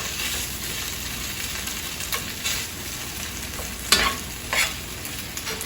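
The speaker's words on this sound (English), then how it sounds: "I'm going to continue to add the rice slowly so that it starts absorbing that butter flavor" Rice sizzles steadily as it fries in butter for creamy fried rice, with a continuous hiss broken by a few louder scraping stirs near the end.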